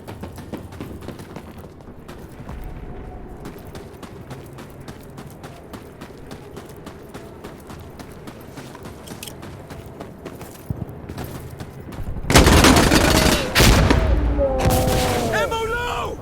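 Gunfire in the game Insurgency Sandstorm rattles as scattered distant shots, then erupts into a loud, dense burst of heavy firing near the end, with voices talking over the battle.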